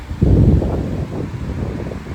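A strong gust of wind buffets the microphone with a low, rumbling roar, easing into a steady rushing noise.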